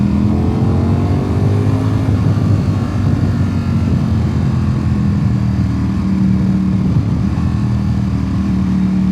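A loud, steady engine drone with low harmonic rumble holds throughout, a motorcycle idling or running close by with no talk.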